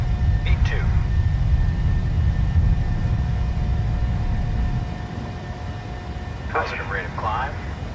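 A PMDG 737-600 jet rolling down the runway and lifting off in Microsoft Flight Simulator, a steady loud engine roar and rumble throughout, easing slightly later, with brief cockpit voice callouts over it.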